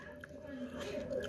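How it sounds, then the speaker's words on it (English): Close, soft chewing of a juicy, tender bite of steak cooked in an air fryer, a steady moist mashing that runs for just over a second at low volume. "let me go ahead and cut this piece up here and take a bite"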